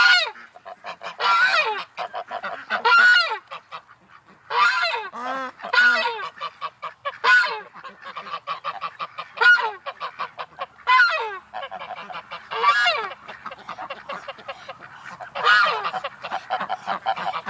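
A flock of ducks honking and quacking loudly and continuously, overlapping calls in bursts close by, with no talking.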